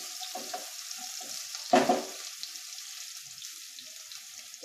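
Chopped onions sizzle steadily in a hot pan, with a louder burst of sizzling as they hit the oil or get stirred, then the even frying continues close and clear.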